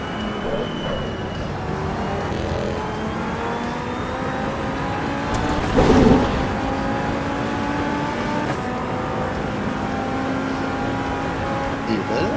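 A race car engine in the racing video game Assetto Corsa EVO drones steadily with rising and falling revs, loud and continuous, while people talk over it.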